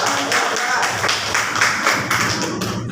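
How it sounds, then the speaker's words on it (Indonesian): A classroom group applauds a team of students who stood to answer, with steady, fairly dense clapping filling the whole stretch at moderate loudness and no speech over it. "Tepuk tangan dulu untuk kelompok 1 ya"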